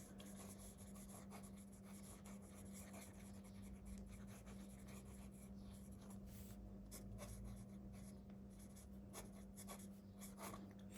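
A Leonardo MZG fountain pen with a titanium nib writes on paper, making faint, close, continuous scratchy strokes over a low steady hum, with no talking.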